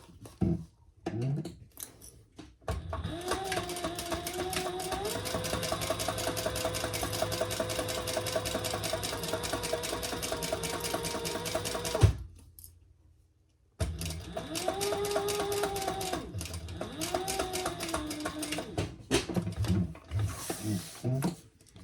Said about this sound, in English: Now we're going to top stitch.